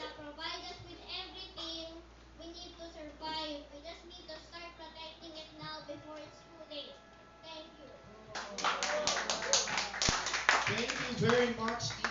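Applause from a young audience at a preschool environment forum breaks out partway through, a dense burst of many small hands clapping after someone speaks over a quieter hall.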